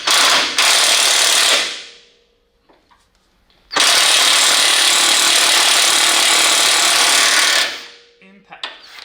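Chicago Pneumatic air impact wrench loosening a 19 mm nut on a Toyota 4Runner front differential, two long loud hammering bursts close by with a brief quiet gap and clinks between them.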